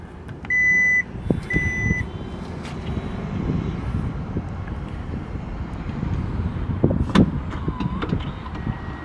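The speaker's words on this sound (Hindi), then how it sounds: "अगर ये बटन दबा देंगे तो डिग्गी बंद भी हो जाएगी और कार लॉक भी हो जाएगी" The powered tailgate of a 2025 Hyundai Santa Fe Hybrid closes after a button press, two warning beeps followed by a low motor hum and a soft latching thud outdoors.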